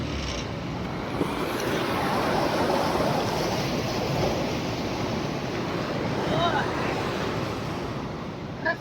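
Swollen village river in flood after heavy rain, its water rushing in a loud, steady broadband roar that holds throughout with a few small surges.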